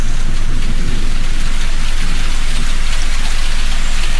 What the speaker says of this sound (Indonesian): Ditambah suara hujan